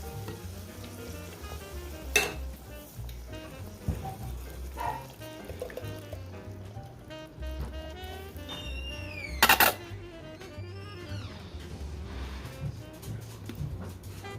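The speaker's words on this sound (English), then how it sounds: "And then I will add a couple cans of Bush's baked beans." Canned Bush's baked beans going into a pan of sautéed onions and bacon, a long soft sizzle under scraping and stirring, with a couple of sharp clanks against the pan along the way.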